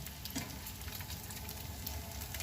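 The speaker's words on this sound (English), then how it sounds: "And I shall cook the rest of the bacon." Bacon frying in a pan for burgers and potato wedges, a faint, steady crackle and sizzle with a few small pops, continuous and undisturbed by talk.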